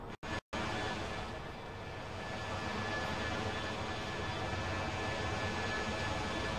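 Airplane engines at an airport in the video game Airport CEO, a steady loud droning roar that holds evenly after a brief cut at the start, with no talking.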